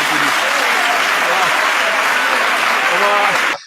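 An audience at a talk applauds in a steady, dense wash of clapping that holds evenly and then cuts off abruptly.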